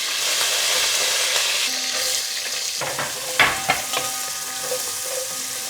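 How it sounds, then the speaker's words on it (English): Mustard seeds sizzle in hot oil in a pan with a steady, close hiss. Scattered pops and a few sharp crackles rise above the frying near the end. "Next goes in a teaspoon of mustard seeds. Let it sizzle a little bit."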